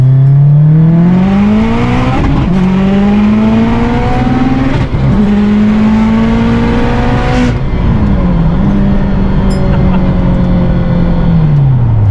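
A turbocharged Subaru STI race car running 45 psi of boost accelerates hard. Its loud engine climbs steadily through the revs, with brief breaks at gear changes, then pulls again, and the sound stays close and dominant from start to end.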